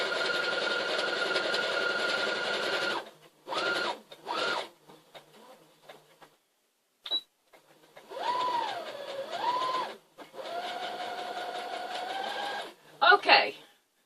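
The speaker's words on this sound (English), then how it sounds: "I'm trying to learn how to sew all over again with a new sewing machine" A new sewing machine stitches a feather pillow in several loud runs of rapid whirring with pauses between, ending in short bursts, while a person talks over parts of it.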